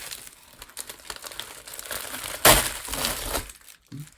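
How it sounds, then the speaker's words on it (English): Packaging crinkles and tears as a book is unwrapped, with soft rustling building to one sharp, loud rip midway, followed by more crackling of the wrapper before it quiets. "let's unwrap the first book."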